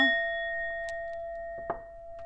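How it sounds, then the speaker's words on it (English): A single bell is struck once, giving a clear ringing tone that sustains and slowly decays through the quiet room, with a few faint knocks and a soft rustle underneath. "let me go ahead and just ding the bell"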